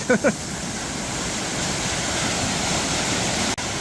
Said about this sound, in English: I have really gotten to enjoy this second waterfall